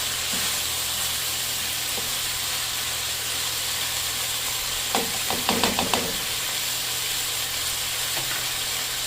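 Coconut milk sizzling in a hot pan, a steady hiss with a burst of crackling and spattering in the middle as the liquid goes in, and a low hum underneath.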